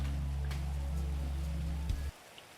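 Rain falls steadily outdoors around a makeshift tent shelter as a faint, even wash with a low hum beneath, cutting off abruptly near the end.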